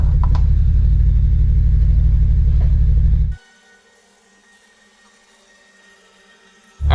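A BMW engine drones loudly under strain on a mountain pull, shaking as fuel cuts out; the heavy rumble drops abruptly to near silence for a few seconds, then surges back at the end.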